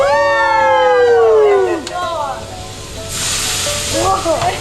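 Banana flambe sears in a pan during home Cambodian cooking. Excited shouting voices ring out first, then a steady burst of sizzling hiss rises near the end.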